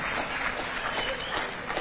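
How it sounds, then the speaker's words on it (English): Sustained applause from an audience in Accra, a dense and fairly faint wash of clapping with no voice over it. "Sustained applause."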